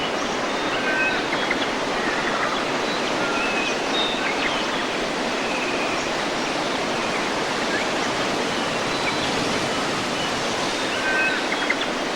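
Breeze stirring millions of tree leaves in Western Australian forest, a steady broad rushing hiss like distant surf, continuous and even throughout with no voices.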